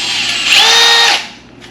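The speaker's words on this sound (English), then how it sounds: "let's go and drill it real quick" A power drill whirs in one short, loud burst lasting under a second, its pitch rising briefly before it winds down, drilling while installing carbon door sills.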